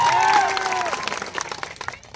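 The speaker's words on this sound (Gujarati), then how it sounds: "સૌ માટે એકવાર જોરદાર તાળીઓ પાડીએ" A rally audience claps for the police officers on duty, a dense wash of applause that is strongest at the start and then thins into scattered claps, with a sustained tonal sound and crowd noise mixed in.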